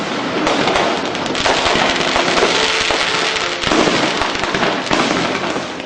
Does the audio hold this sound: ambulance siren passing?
no